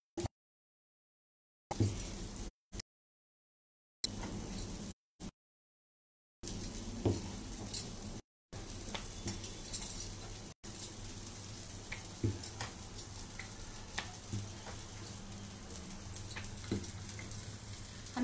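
Kebabs fry in a pan in a home kitchen, giving a soft crackling sizzle that cuts in and out with several silent gaps before settling into continuous low sizzling with scattered pops.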